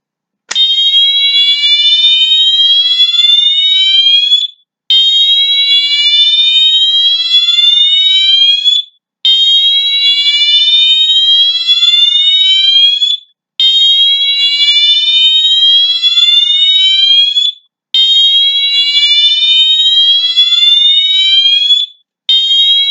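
A loud Wheelock MT4 fire alarm horn, run from a Fire-Lite BG-12LX pull station, blares in long sustained tones, about four seconds each, repeating with short gaps between them.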